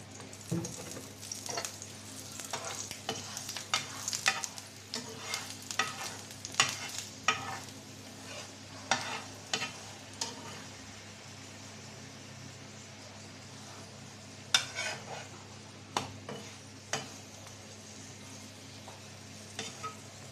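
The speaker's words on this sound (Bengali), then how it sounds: "আমি লো হিটে পরোটাগুলো একটু সময় নিয়ে ভেজে নেব" Parathas fry slowly in oil over low heat, with a soft steady sizzle under intermittent stirring and scraping clatter, close by, and occasional sharper knocks against the pan.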